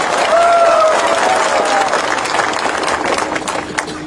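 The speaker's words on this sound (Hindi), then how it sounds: "आप अपने आप को भी थोड़ा सा ताली देकर अपने आप को भी क्रेडिट लीजिए" A rally crowd at a protest for minorities in Bangladesh bursts into sustained applause, dense clapping filling the space at steady loudness, with a few faint shouts and tonal calls early on.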